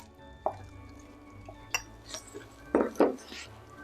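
A spoon clinks and scrapes against a hot cooking pot as semi-sweet chocolate chips are stirred in, a handful of separate metallic taps and scrapes with quiet pauses between, fairly soft and close.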